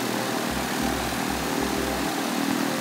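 A Piper PA28-140 light aircraft's engine cranks and catches, its low pulsing firing building over about two seconds under a steady broadband propeller roar, close and loud.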